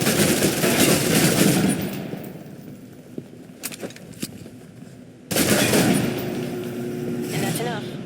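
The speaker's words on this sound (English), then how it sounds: "If you're trapped in close quarters with multiple opponents, the SMGs can help clear the room quickly." Submachine gun bursts in Alpha Protocol, close-range automatic fire loud at the start, a lull with scattered clicks and single shots, then another heavy burst of rapid fire to the end, with a voice talking over parts.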